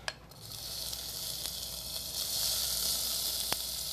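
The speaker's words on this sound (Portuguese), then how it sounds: "E vamos começar aqui a refogar a cebola" Diced onion sautéing in olive oil in a pan, a steady close sizzle with a few faint clicks of a utensil against the pan and no talking.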